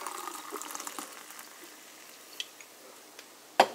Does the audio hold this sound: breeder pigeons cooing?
no